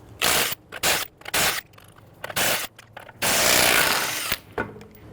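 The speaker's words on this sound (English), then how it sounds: "Using a 21mm socket, go ahead and loosen and remove all of your lug nuts" Impact wrench loosening lug nuts with a 21mm socket on a Nissan Quest minivan, several loud rattling bursts separated by short pauses, the last one longest, with scraping and clinking between them.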